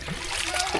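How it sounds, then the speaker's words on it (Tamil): Water scooped by hand and splashed into a pot of biryani rice and chicken, short uneven splashes and trickles. "கையில் அள்ளி ஊற்றுறாங்க"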